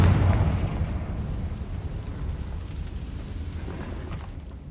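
A Confringo fire spell explodes in the Hogwarts Legacy video game: one loud, deep boom at the start, then a long rumbling decay that stays heavy in the low end.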